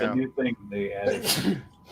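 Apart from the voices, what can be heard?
sneeze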